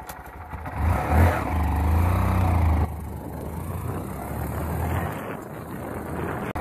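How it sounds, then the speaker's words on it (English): A small Honda Mini Trail 70 motorcycle rides down a lane, its engine droning close by and swelling briefly as it accelerates before settling into a steadier, slightly quieter run with wind buffeting. "I'm going to see how this does with background noise on my little motorcycle here going down my lane"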